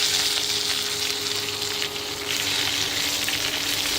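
Black peppercorns and fresh drumstick leaves fry in hot oil in a pan, giving a loud, dense, steady sizzle that runs unbroken from start to finish, close by and with no voices.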